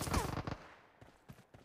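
Pistol shots in PUBG Mobile: a loud cluster of rapid bangs at the start, then a few fainter scattered shots after a brief lull, heard close.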